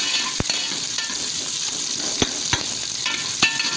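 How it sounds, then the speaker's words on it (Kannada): Chopped onions frying in hot oil for a tempering for goat's head sambar, a steady close sizzle broken by a few sharp scrapes and clicks of stirring. "ಅದು ಸ್ವಲ್ಪ ಕಾದಿದ್ದಕ್ಕೆ ಈರುಳ್ಳಿ ಹಾಕ್ತಾಯಿದ್ದೀನಿ."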